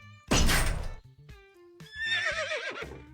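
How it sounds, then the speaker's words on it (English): A horse whinnies from inside a prison cell in a video game, a loud close neigh with a shaky rising and falling pitch, followed by a second wavering whinny after a short gap. "A horse."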